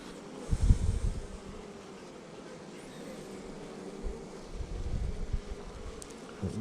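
Honey bees from a newly installed package in Central Texas, dropped into the hive, give a steady low buzzing hum close by, with a few louder swells, and no talking.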